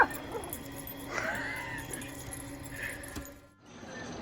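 Picouli the dog gives excited yips and whimpering little barks, close by and scattered over a few seconds, with some faint background bustle.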